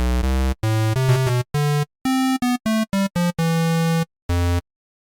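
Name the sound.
synthesizer playing a square waveform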